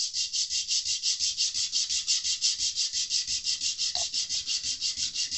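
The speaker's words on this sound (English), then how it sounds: "All that sawdust will clog up your sandpaper and you're not really doing any work." Sandpaper rubs a wooden part flat against a surface during a mandolin setup, in quick, even back-and-forth strokes, a close, rhythmic scratchy hiss with no talking.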